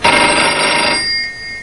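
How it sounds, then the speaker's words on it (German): A kitchen telephone rings once in a single loud, close bell trill that fades quickly. "plötzlich klingelt dieses Telefon."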